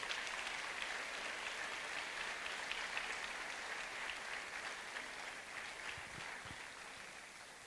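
A church congregation giving a sustained round of applause, a dense, steady wash of many hands clapping that holds evenly throughout and tapers slightly toward the end, moderately distant and with no talking.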